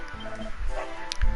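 A dog in the Dragon Quest XI video game gives short yips and a whimpering bark, close and brief, a couple of quick sounds over a faint game backdrop.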